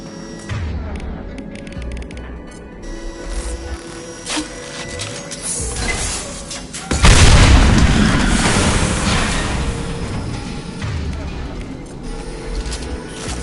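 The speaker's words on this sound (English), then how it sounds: "It'll take heavier weapons than that to blow those tanks." In Mass Effect 2, heavy weapons blow up tanks: a sudden deep, loud explosion about halfway through, followed by a long rumbling decay, with game noise and voices around it.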